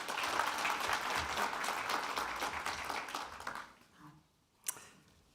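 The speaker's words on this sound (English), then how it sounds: "Please give Matthew a very warm round of applause." An audience at a business school graduation ceremony in Berlin applauds steadily for several seconds, a dense wash of clapping that fades out, followed by a single sharp knock.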